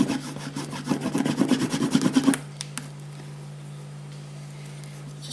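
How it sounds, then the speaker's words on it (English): An encaustic wax transfer is rubbed down firmly by hand, giving quick back-and-forth scrubbing strokes for about two seconds, then the rubbing stops, leaving a low steady hum. "Giving it a good old rub. This way and that."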